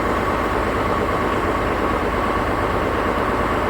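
Crane engine running steadily during installation of a new Cummins Onan home generator, roughly 8 to 10 kilowatts; a loud, continuous low rumble with an even idling drone and no pauses, no voices.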